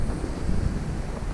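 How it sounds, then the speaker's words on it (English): Strong wind buffets the microphone outdoors beside a shipping container, a steady loud rumble with gusty swells and no talk. "it's like super windy right now"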